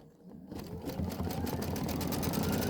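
Sewing machine quilting a Kimberbell quilt block, starting quietly and quickly building to a steady, fast, close whirring stitch that keeps running to the end.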